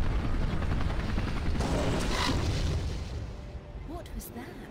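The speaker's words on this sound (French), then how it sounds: "Là, vous voyez qu'on a eu l'hélicoptère qui était l'hélicoptère qu'on a vu dans le niveau précédent." In a fan-made Tomb Raider level, a helicopter's rotor rumble and whir fills the scene, loud and close, before fading, with game booms and effects around it.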